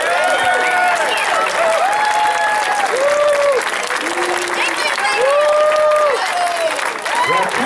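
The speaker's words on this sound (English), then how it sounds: "big round of applause" Loud, steady crowd applause with scattered cheers and whistles fills the whole stretch at an outdoor all-stars rally for a youth baseball team in navy blue.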